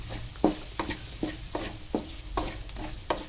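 Chili powder masala for a garlic tamarind curry sautés in a pan over low heat, with a steady sizzle broken by about eight rhythmic scraping stir strokes, close and fairly quiet.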